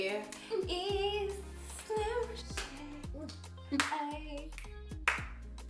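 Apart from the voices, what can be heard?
hands clapping on beats 1 and 3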